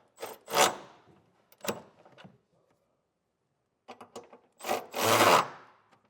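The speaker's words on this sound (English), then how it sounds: "Now we'll take an 11/16 socket and get everything tightened" A ratchet with an 11/16 socket tightens the nuts on a Curt Class III trailer hitch being installed on a 2025 Chevrolet, giving a few separate bursts of close, raspy clicking with quiet gaps between them.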